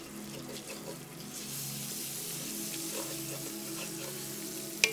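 Onions sauté in a pan, a steady close sizzle and crackle of frying that runs throughout with a few faint stirring scrapes and a small clink at the end.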